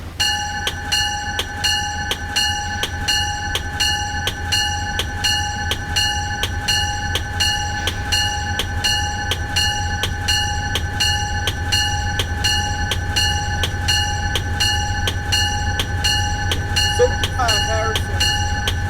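Train running in Train Simulator 2016, a P32 locomotive on the line from Grand Central to Stamford, with a steady engine drone and a regular clickety-clack rhythm of rail joints throughout, loud and continuous.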